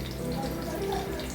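Hot, steamy water pours into a pot of chicken being cooked with turmeric, making a steady, close splashing rush that lasts the whole moment with no voices.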